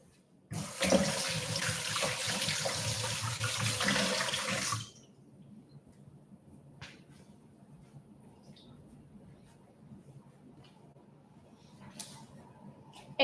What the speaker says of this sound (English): Go and quickly wash my hands.